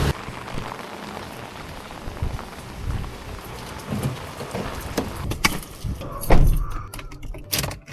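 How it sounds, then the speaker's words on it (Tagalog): Heavy rain drums steadily on a car during a night drive in Quezon City, a dense hiss with scattered louder splashes and knocks building toward the end; no voices. "Lakas ng ulan ngayon, boys."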